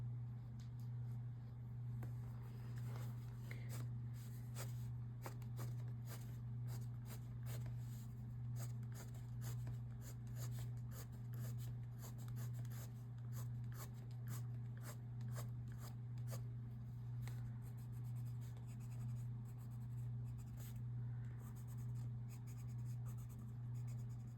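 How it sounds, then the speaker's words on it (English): A green colored pencil scratches across paper while a garden landscape is drawn, giving quick irregular strokes that repeat steadily over a low constant hum, close and quiet with no talking. "And then maybe I can use a green pencil as well."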